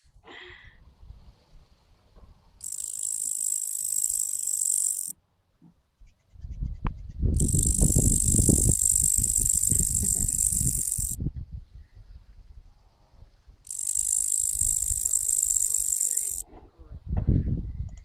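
Three long, loud bursts of buzzing insect song from insects rubbing their wings together, each lasting a few seconds with short gaps between, while voices murmur and talk underneath.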